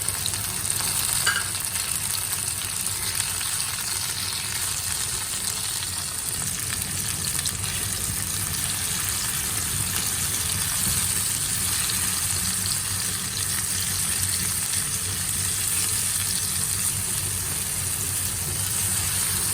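Chopped tomatoes frying in a pan for a corned beef and bitter melon dish, a loud continuous sizzle with stirring throughout and no voices.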